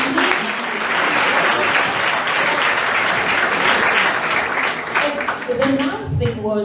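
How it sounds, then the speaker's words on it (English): Audience applause at a high school music centre opening, a dense sustained wash of many hands clapping throughout, with voices emerging near the end as it fades. "I think we must give him a round of applause."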